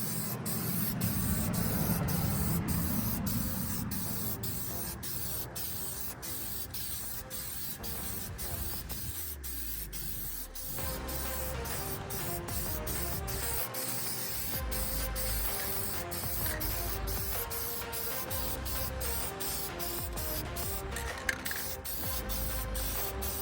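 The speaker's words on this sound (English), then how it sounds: "Just waiting for it to dry so I can hit it with a coat of paint" A spray can hisses steadily as paint goes onto a Freightliner Cascadia or Kenworth T680 truck differential housing. The close, continuous spray runs almost without a break and carries no talk.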